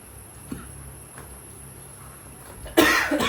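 A woman coughs after eating at a home Onam celebration meal; a faint throat sound early on, then a sudden loud burst of coughing near the end over quiet room noise.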